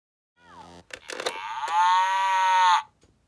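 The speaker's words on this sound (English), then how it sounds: "the first animal is a moo, a cow, a dairy cow" Cow moo from a Fisher-Price musical farm toy, a single drawn-out electronic low then rising moo, loud and clear on its own, followed by a short toy click.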